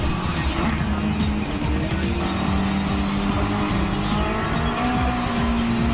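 A Nissan R34 and a Mitsubishi Lancer race down the main straightaway side by side, engines droning loud and continuous with rising and falling pitch, tyre noise threading through the roar, no voices.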